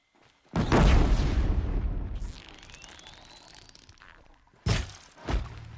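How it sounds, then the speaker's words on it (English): A loud explosion bursts in Horizon Zero Dawn with a heavy boom and crackling debris that fades into a long rumbling tail, followed by a rising whine and two sharp impacts near the end. "Kaboom."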